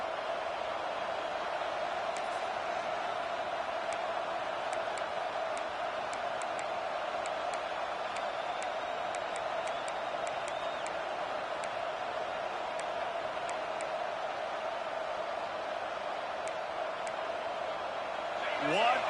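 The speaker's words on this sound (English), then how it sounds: "This crowd roaring to try to get an early 3 and out." Steady broad roar of a large college football stadium crowd pressing the offense on third down, sustained and loud throughout with no clear breaks, a few faint sharp whistles or clacks sprinkled over the wash.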